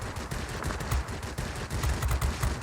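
Twin 23mm cannons on an F5F fighter fire in World of Warplanes, producing a fast, continuous rattle of shots that stays steady and moderately loud throughout.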